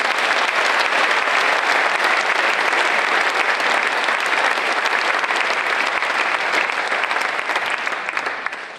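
Sustained applause from an audience at a charity concert event, steady dense clapping for about nine seconds that tapers slightly near the end.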